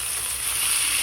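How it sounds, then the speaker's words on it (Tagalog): Corned beef fries in a pan with a bright, steady sizzle and hiss that stays loud and unbroken for a moment, with no talking. "At ihalo na natin yung corned beef."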